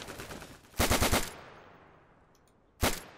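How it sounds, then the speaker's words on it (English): Automatic gunfire in the World War II shooter game Day of Infamy, a rapid burst of several loud shots followed by a fading tail and a second sharp shot near the end, close and without talk. "If you're shooting at me, karma does exist."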